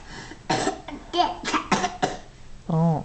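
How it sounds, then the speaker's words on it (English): A young child coughs several times in quick succession, close and fairly loud, then ends with a short voiced vocal sound. "Show me that you're coughing."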